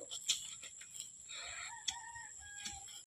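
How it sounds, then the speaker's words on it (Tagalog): Chickens in a mountain vegetable garden cluck and call, with several short bursts and one drawn-out crow-like call, heard close and fairly faint against quiet outdoor ambience. "this is the chickens of my mom"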